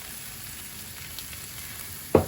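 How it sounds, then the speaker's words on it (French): Shrimp and garlic sautéing in a pan for shrimp noodles, a soft continuous sizzle held close and even, ending in a brief louder clatter or stir near the end, with no voices. "Donc les crevettes, j'ai mis aussi 2 gousses d'ail. On va les faire revenir un petit peu."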